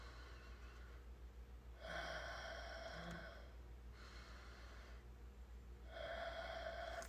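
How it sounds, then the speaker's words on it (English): Slow, deep breaths from a deep breathing exercise in a quiet room, each long airy inhale or exhale rising and falling in turn, close and soft over a low steady hum. "It's called deep breathing exercise. So I take a deep breath in a quiet place."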